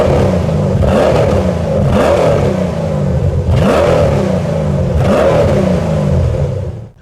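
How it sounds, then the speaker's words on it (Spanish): A Saleen S7 supercar engine revs hard several times in a row, each loud roaring surge rising and falling close by, with a brief cutoff at the end. "escuchemos un par de aceleraciones del Saleen S7"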